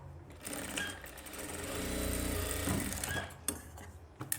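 A sewing machine runs in a steady buzzing burst while stitching a blouse at a tailoring bench, rising to a sustained whir mid-clip before slowing, with small clicks and handling noises near the end.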